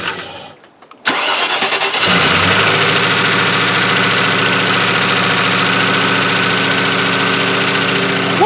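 A Range Rover engine cranks after a brief quiet gap, catches and settles into a loud, steady, rough-running idle with a knocking clatter, after its fuel pump fuse was dealt with.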